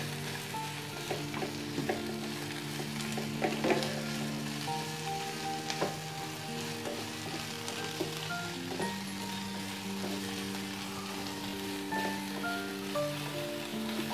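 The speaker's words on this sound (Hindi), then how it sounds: "हम डाल देंगे इसमें प्याज जो हमने काट के चॉप करके रखी हुई थी" Chopped onion frying in a pan for a green chilli keema dish, a steady close sizzle with occasional stirring clicks, no voices.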